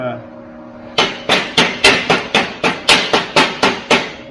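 Repeated sharp metallic hammer strikes, about a dozen in a steady rhythm, chipping weld slag off metal up close with an ordinary hammer, with no talking over them.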